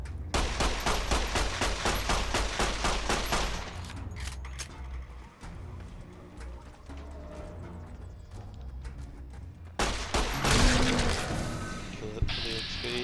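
Rapid 9mm pistol shots from Fallout: New Vegas, loud close cracks fired in quick bursts for several seconds, then a pause with scattered impacts and another dense volley near the end.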